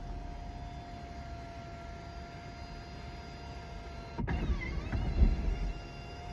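A Kia EV6's electric sunroof whirs into motion inside the cabin, a moderately loud motor hum starting abruptly and running steadily for about two seconds over a low background drone.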